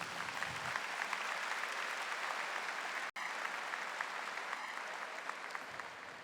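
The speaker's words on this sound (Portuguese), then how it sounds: "Pode aplaudir." Sustained applause from a church congregation during a Catholic preaching event, steady and fairly distant, with a brief dropout midway and no voices.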